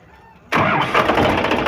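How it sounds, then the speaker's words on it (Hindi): An Indo Farm 3035 DI tractor, one with a single-clutch diaphragm pressure plate problem, cranks and fires up after a brief quiet moment, its diesel engine then running loud and close with a rough, steady rumble. "अभी हम ट्रैक्टर को पहले स्टार्ट कर लेते हैं"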